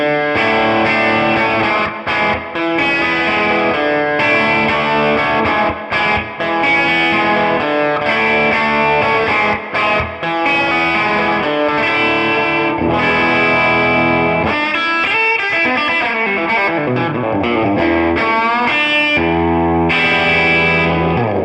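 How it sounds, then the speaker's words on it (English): A loud, overdriven Gibson Les Paul electric guitar with a bright, biting bridge-pickup tone, playing a continuous lead passage with sustained, gritty notes and no talking. "Now let's hear the bridge pickup, the tone that defined the burst sound."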